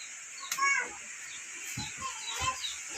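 Chickens near a rural home in the rain, a few scattered clucks and short calls, fairly faint over a steady background hiss, with a couple of louder low thumps.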